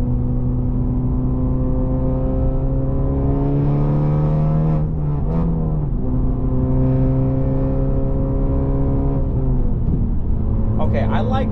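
A Honda Civic Type R engine climbing steadily in revs while driving under light throttle, a smooth rising whine with layered harmonics that dips and climbs again, close and loud throughout.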